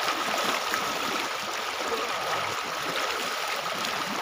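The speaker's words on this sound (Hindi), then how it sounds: "देखिए इधर पानी बह रहा है एकदम दमकल की नदी जा रहा है एकदम" Icy cold river water rushing past someone washing clothes at the bank, a steady loud broadband stream that fills the whole stretch evenly, near and continuous with no voices over it.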